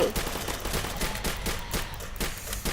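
Rapid gunfire rings out while shooting zombies in a Roblox game, a loud, steady stream of closely spaced shots that continues without a break.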